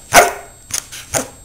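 A trained dog barks on command, three clear barks spaced across about a second and a half, close and fairly loud with quiet gaps between them.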